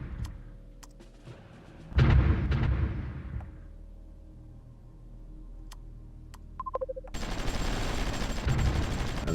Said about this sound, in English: Get the artillery within reach of that, and we'll take out the next town.